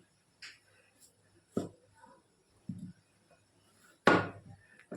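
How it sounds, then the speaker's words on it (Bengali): A knife chops onion and potato on a cutting board in a home kitchen, landing a few sparse, separate thuds at irregular intervals, the last one the loudest, with quiet gaps between them. "পেঁয়াজটা কুচি করে কেটে নেব, আর আলুটাও"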